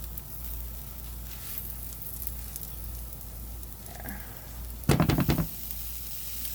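A tortilla cooks in a buttered pan with a steady, soft sizzle throughout. Near the end, a short clatter marks the spatula flip, and no one speaks.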